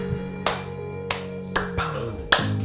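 Several loud, sharp hand claps spaced unevenly about half a second apart, each one crisp and standing out over a steady low hum in the background.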